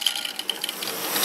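An OO gauge model train running on its track after a gear and spring clip repair, giving a soft, steady mechanical whir and fine clicking that stays even and close for a moment, with no talking.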